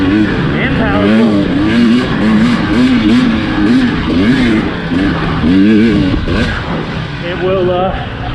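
KTM 300 XC-W TPI two-stroke dirt bike, a 2020 model, revving hard as it accelerates on a Crow Canyon trail, loud and close with a rising, wavering engine note throughout.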